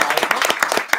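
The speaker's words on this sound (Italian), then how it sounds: "applauso." A burst of clapping from a crowd, dense and steady for a second, with sharp overlapping hand claps.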